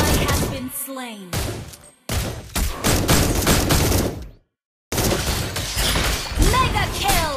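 Rapid bursts of gunshots from Granger in the Mobile Legends game, loud clustered shots in rhythmic volleys between short silent breaks, mixed with game effects and character voice lines.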